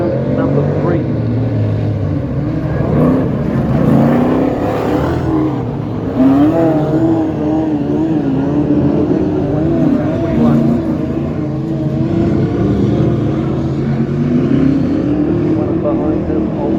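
Speedway race cars roar around a greasy dirt track, engines droning and surging continuously at close range, with people talking over the noise.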